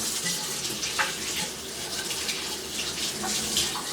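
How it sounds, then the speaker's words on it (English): Tap water runs steadily into a sink while hands are rinsed, a continuous close splashing hiss lasting the whole moment with no one talking. "Let me rinse my hands."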